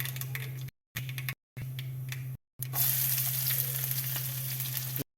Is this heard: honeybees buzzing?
no